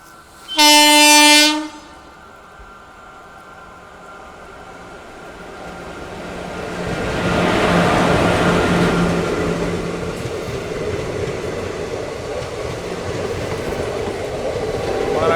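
A train horn blasts briefly, then a train approaches and rolls past with a swelling rumble and rattle of wheels that fades and returns.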